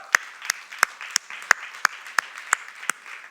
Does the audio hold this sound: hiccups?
no